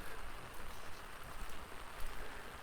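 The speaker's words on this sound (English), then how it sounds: "We're talking about a deluge. It just keeps on coming." A heavy deluge of rain in mountain country pours down as a steady, dense hiss, continuous and unbroken from start to finish.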